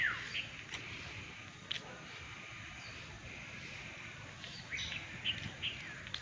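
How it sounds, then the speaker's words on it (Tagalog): Faint black-naped oriole calls, a few scattered whistled notes at a distance, over a quiet outdoor resort background with soft wind. "marinig mo yung ibon, kilyawan. Ayan, kilyawan yan."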